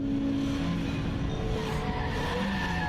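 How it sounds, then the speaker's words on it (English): Car skidding on a surface in the video game Rainswept, a steady rough tire-scrubbing noise with sustained squealing tones, continuous and fairly loud throughout, with no clear crash impact standing out. "I think we wrecked the car."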